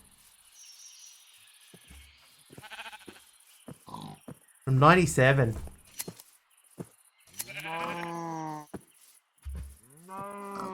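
Synthetic-sounding Minecraft sheep bleats, a few loud wavering calls spread across the clip, with a voice speaking briefly between them.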